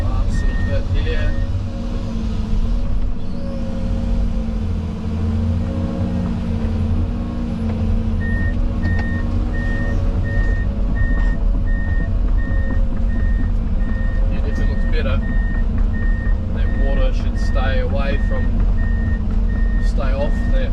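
A 20-tonne digger slews around on site, its diesel engine rumbling loudly and close, while a steady high reversing alarm beeps repeatedly through the second half; someone talks over the machinery.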